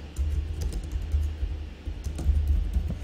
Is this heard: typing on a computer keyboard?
yes